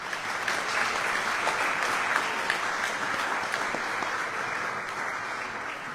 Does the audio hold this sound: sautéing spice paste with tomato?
no